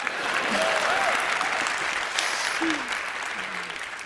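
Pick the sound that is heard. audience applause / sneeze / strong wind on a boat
audience applause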